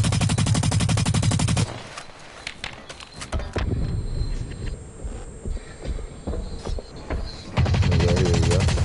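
Rapid gunfire from a video game, Blacklight: Retribution, with dense bursts of shots loud at the start and end and a busier stretch of mixed game noise in between.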